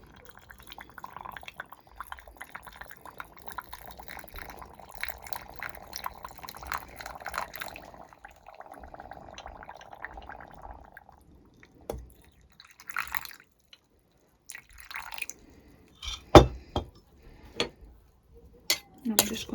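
Salt-and-filtered-water brine is poured gently over vegetables in a jar, a faint trickle heard near the start, followed by soft glass and spoon clinks and a few sharp taps, with a quiet voice talking.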